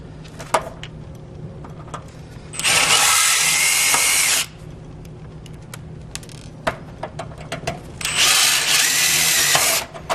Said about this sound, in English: we will wind up drilling out these 4 rivets